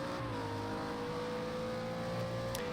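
GT3 race car engine in a PC racing game, a sustained high revving note with steady harmonic whine, close and continuous, no voices.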